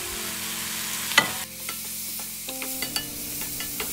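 Thai basil stir-fried with lobster and minced pork in a hot pan, giving a steady sizzle with scraping stirs and a sharp clank of a utensil, close and continuous.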